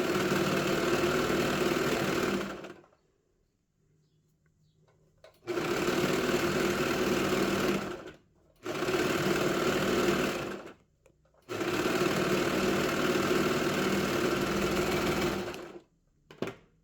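A sewing machine stitches the high collar of a knit dog sweater in close, steady whirring runs. Four bursts of a few seconds each are separated by short silent pauses.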